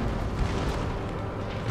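Cannon artillery in Empire: Total War rumbles in a dense, continuous low roar of overlapping distant booms with no clear gaps between shots.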